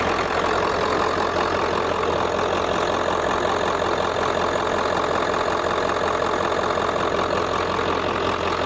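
A heat gun set on low, powered through a BougeRV 2000W 12V pure sine wave inverter, gives a steady, dense, unbroken whir-like roar that stays loud and even throughout with no pauses.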